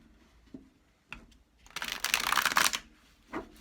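Deck of tarot-style cards shuffled by hand, a few soft taps and flicks followed by a brisk riffling burst of about a second, then another light tap, close and quiet.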